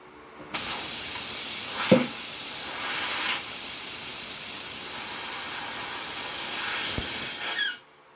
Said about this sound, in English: That air coming out will blow it right out of your hand and you'll never find it.